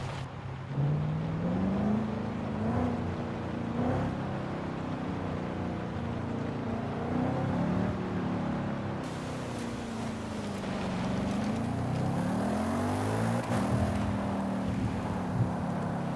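Engine of a 14-year-old stock car of roughly 420 horsepower in the racing game Forza Horizon 5, revving up and down in steady rising and falling sweeps, loud and continuous throughout without talk.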